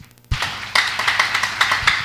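A church congregation clapping during a sermon, breaking in suddenly after a brief quiet into a steady run of rhythmic handclaps, fairly close and moderately loud.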